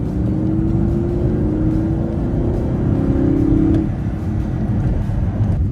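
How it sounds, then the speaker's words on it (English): Audi R8 with a V8 engine cruising at low RPM through a quiet neighborhood, giving a smooth, steady low hum inside the car, with a faint tonal whine rising and then fading midway. "the engine is super quiet when going through an area like this in a neighborhood"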